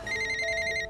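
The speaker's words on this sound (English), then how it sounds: "Elizabeth's phone rings." A phone rings with a steady electronic ringtone, bright sustained tones pulsing evenly for about a second, close and clear over a faint background hum; no voices.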